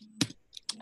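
Two quick bursts of computer keyboard typing, close and crisp keystroke clicks separated by a brief pause over a faint background hum.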